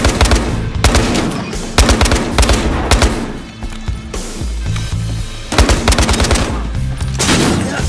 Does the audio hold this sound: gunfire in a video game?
yes